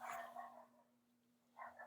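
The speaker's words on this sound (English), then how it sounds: "excuse me, that's my dog" A dog barks outdoors in Florida during rainy season, two short bursts of barking separated by a brief pause, fairly faint over a steady low electrical hum.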